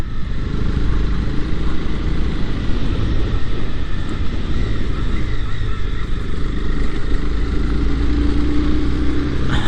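A Honda CB300R motorcycle cruising in fifth gear on quiet streets, its engine drone steady and loud throughout, blended with heavy wind rush and road noise from the moving bike.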